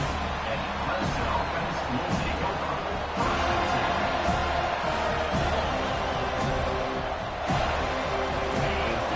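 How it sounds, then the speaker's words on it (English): Loud stadium crowd roaring at a college football game, a dense, continuous wall of noise that surges slightly in places without letting up. "This crowd bringing an ear-splitting welcome to their visitors."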